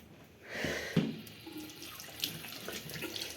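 Tap water runs into a washroom sink as someone washes their face in the morning, a steady close splashing stream with a brief louder splash near the start, no talk.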